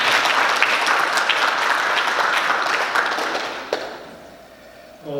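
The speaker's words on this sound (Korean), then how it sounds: "우리 박수 한번 크게 보여주세요" Loud applause from a dinner audience at a Rotary club lecture, dense steady clapping for about four seconds before thinning out, then a voice starts speaking at the very end.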